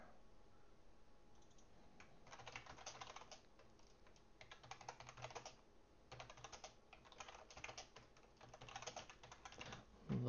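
Steady bursts of computer-keyboard typing while notes are written into C++ Qt code, with irregular close key clicks that come in clusters and short pauses for about ten seconds, and no talking.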